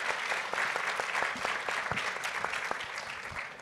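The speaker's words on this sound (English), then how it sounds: "So just a round of applause for our sponsors for supporting us through this." A fairly quiet round of applause from a health equity forum audience, with scattered distinct claps over a steady patter that tapers slightly toward the end.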